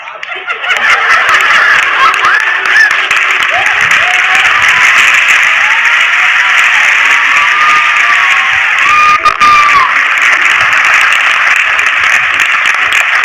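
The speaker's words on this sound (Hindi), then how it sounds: "हमारी ताली कैसे बज रही है?" Seminar audience applauding, a dense, steady wash of clapping that fills the whole span at close range, with a few scattered chuckles and cheers mixed in.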